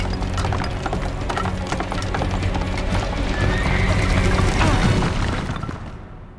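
A horse gallops with steady clip-clop hooves and neighs loudly in the Prince of Persia: The Sands of Time video game, set during an invasion of India, with battle booms rumbling beneath and no talk.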